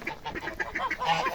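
Toulouse grey geese calling on a farm, a run of short, honking cries in quick succession, fairly close and lively, with no talk over them.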